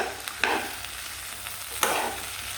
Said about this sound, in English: My little bit of fried rice spice, just a little bit, and give all of that a good stir.